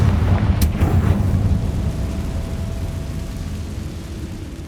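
A Confringo blasting spell goes off in Hogwarts Legacy: a sharp burst early on, then a loud rumbling boom that slowly decays into a low roar with no talk.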